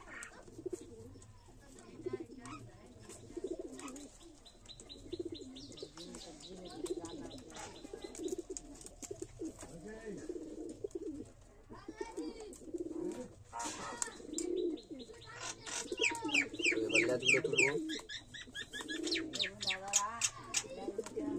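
Pigeons coo in soft, repeated throaty bursts close by, with chirps from other birds mixed in and a voice talking faintly underneath at times.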